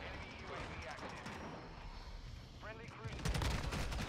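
Rapid bursts of gunfire from the video game Call of Duty: Modern Warfare 2, with a steady stream of shots at moderate loudness and a louder cluster of blasts near the end, while a voice talks over it.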